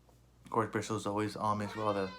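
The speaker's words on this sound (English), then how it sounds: "That was my cat wanting attention." A domestic cat meows for attention in a single drawn-out, rising and falling call, close by, mixed in with someone talking.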